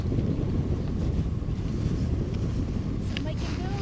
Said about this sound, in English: A bit of wind blowing off spindrifts here.